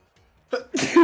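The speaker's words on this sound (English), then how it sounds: "Sneeze." A single sharp sneeze, close and sudden, with a short breath-in just before it.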